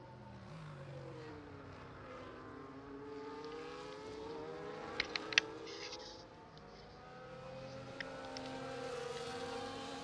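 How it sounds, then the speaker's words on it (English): F1 cars following the safety car in F1 24 at Baku, several engines droning and rising and falling in pitch as they circle at moderate distance, with a few brief clicks partway through. "Going to just let you enjoy the sounds of the safety car in the field for the next minute."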